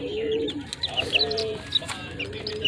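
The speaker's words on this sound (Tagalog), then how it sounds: "Relax ko lang itong mga alaga kong mga sisiw" Young chicks kept as pets chirp nearby in short, high peeps scattered over a soft backdrop of lower cooing and clucking from poultry, fairly close and steady, with no talk.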